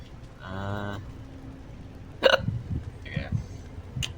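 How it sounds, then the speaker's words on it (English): Sharp, repeated hiccups in a Borderlands: The Pre-Sequel gameplay session pop out at close range, mixed with a person talking and some background game noise. "Have the hiccups on."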